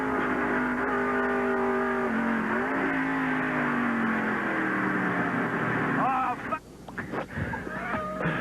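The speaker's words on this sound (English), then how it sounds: "Johnson slides off into the tires, but is back on course." A NASCAR race car roars loudly past, its engine note sliding in pitch as it runs off course into the tire wall, then the roar cuts out into rougher scraping noise, with commentary talk over it.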